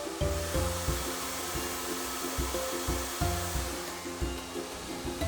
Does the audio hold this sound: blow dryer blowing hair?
yes